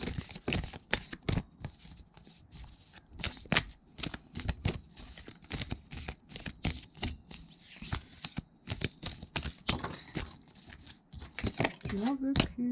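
Oversized tarot cards being shuffled by hand: continuous dense riffling and sliding of cards in quick, uneven bursts, close and fairly loud throughout, with a person talking over it at moments.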